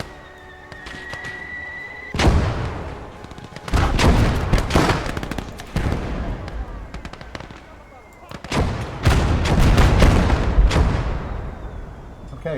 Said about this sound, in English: We've got mortar fire.